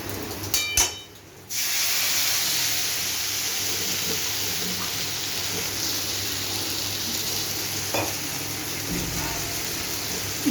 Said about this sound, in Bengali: বন্ধুরা জল দিয়ে ভালো করে জল দিয়ে দেবো।